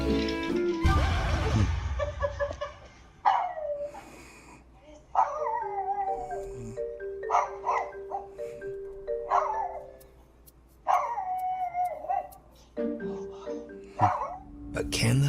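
A small dog barks and yelps in short bursts amid faint whining and background noise, sharp repeated calls spaced across the stretch with loud rustling at the start.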